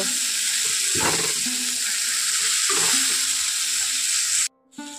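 Spices sizzling in hot oil in a pan while preparing an egg dish: a steady, close, hissing fry that carries on throughout, briefly cut off near the end.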